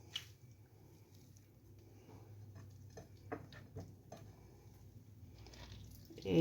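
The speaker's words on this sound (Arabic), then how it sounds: "صفي كده البطاطس من المية" Grated potatoes being drained of their water by hand: faint wet squishing and small drips and pattering spread irregularly through a quiet kitchen, close but soft, no speech.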